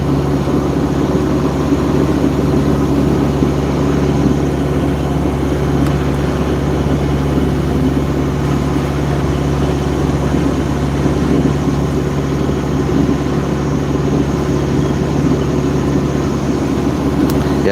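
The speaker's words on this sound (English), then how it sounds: "Nah, the engine sounds the same." A boat engine drones steadily on a flat calm sea en route to Papua New Guinea, a loud, unbroken low hum with no voices and no change in rhythm.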